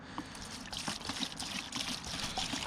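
RV antifreeze poured into a bucket while winterizing a 1992 Sea-Doo GTX, a soft steady splashing trickle close by, fairly quiet.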